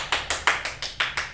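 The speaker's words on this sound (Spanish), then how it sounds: "¡Un aplauso!" Seven single claps in an even, steady rhythm, each loud and close, from a small group or a single person answering a call for applause.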